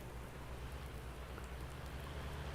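Steady rain falls across a farmyard in Farming Simulator 19, a soft, even hiss with a low rumble beneath it, constant and moderately faint throughout with no voices.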